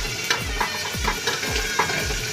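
A tempering of chillies and curry leaves sizzles in hot oil, with steady frying crackle broken by regular stirring scrapes about every half second.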